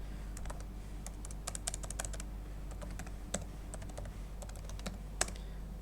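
Rapid, irregular keystrokes on a computer keyboard as shell commands are typed to start HDFS, close and fairly steady over a constant low hum, with no talking.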